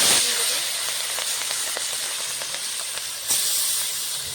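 Marinated small fish frying in hot mustard oil in a wok: a steady, loud, close sizzling hiss that runs throughout, with one brief louder crackle near the end and no talking.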